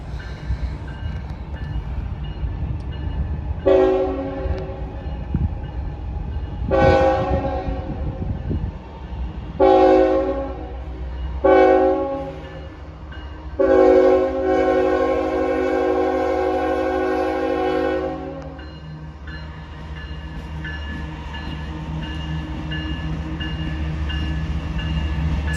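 A CSX freight train rumbles steadily along the mainline while its horn sounds in several blasts, short ones first and then a longer sustained one, loud and nearby with a continuous low rolling noise beneath.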